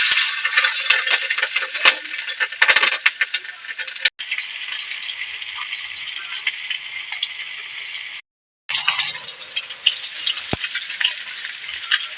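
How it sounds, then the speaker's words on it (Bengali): Egg frying in oil in a home kitchen, a steady close crackling sizzle with rattling spikes and a brief drop to silence partway through. "এরপরে ডিমটা ভেজে দিই"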